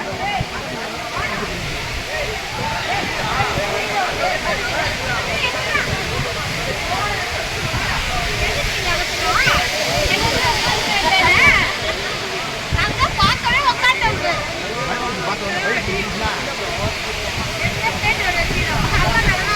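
The Aagaya Gangai waterfall in the Kolli Hills rushes with a loud, steady roar of falling water heard close up, while people talk and call out over it.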